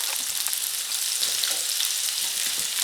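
Cut carrots and parsnips caramelize in a hot pan for an Irish stew, giving off a steady, close frying sizzle that crackles continuously with no voices.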